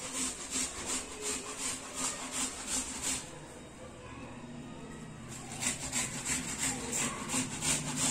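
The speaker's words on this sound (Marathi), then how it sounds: "हे बघा आता कांदा झालाय किसून" An onion grated by hand, a rhythmic rasping scrape of repeated strokes, close and fairly loud, with a brief quieter pause in the middle before the strokes resume.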